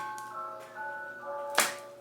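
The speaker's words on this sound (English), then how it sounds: "the ice cream man only comes by my house when it is raining or I am doing something" A faint, tinny ice cream truck melody drifts in from a distance, thin repeating notes under quiet room noise, with a brief clunk near the end.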